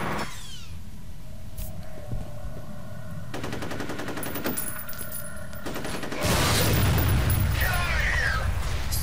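Sustained automatic gunfire in the video game F.E.A.R. 3 rattles in fast repeated bursts, loud and close, ending in a heavier blast of noise near the end.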